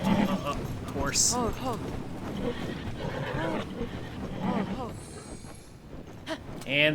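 Horse whinnies and neighs with clip-clopping hooves in the video game Tears of the Kingdom, several calls spread over a continuous busy game soundscape, and someone talks over it.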